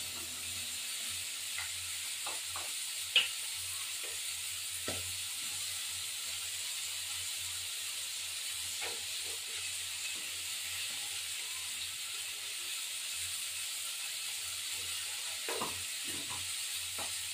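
Turmeric and chili powder fry in a pan as a faint, steady hiss and sizzle, with a few soft clicks and knocks scattered through it.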